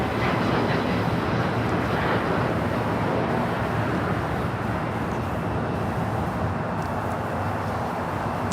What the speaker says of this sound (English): Flight heading to Cabo in the San Francisco Giants livery. The 737 at MAX 9.